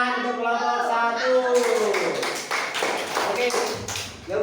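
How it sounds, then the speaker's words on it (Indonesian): A classroom of students claps for a presenting group, a short burst of scattered hand claps following a teacher's voice, with talking over and around the clapping. "Kasih tepuk tangan untuk kelompok 1"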